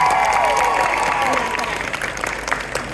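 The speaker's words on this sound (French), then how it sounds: "applaudissez-la bien fort aussi." A convention crowd at a cosplay contest applauds a judge, a dense, loud burst of clapping that gradually thins and fades, with a voice talking over the start.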